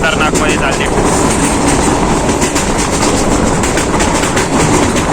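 The Tutari Express, a fully air-conditioned train, runs fast through the night with a loud, constant roar of wheels on rails and faint rhythmic clatter. A voice speaks under the noise.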